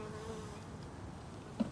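Honey bees humming steadily at an opened hive in Jacksonville, Florida, a faint continuous buzz with one brief louder pass near the end.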